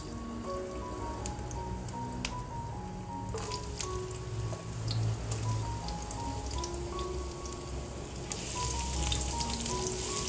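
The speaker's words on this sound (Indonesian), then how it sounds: "kemudian kita tumis bawang yang sudah kita potong-potong tadi ya" Chopped onions sautéing in cooking oil give off a steady, soft sizzle and crackle, with occasional light clinks of utensils against the pan.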